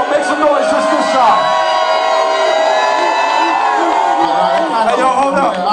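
A concert crowd warming up for a hip-hop show cheers and shouts loudly, a sustained roar of many voices with whoops and yells rising and falling over several seconds.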